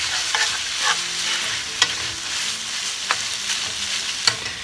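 Ground meat (pork, turkey or chicken) frying in sauce for ants climbing a tree, a steady close sizzle with a few sharp spoon-on-pan clicks and stirring scrapes, no voices.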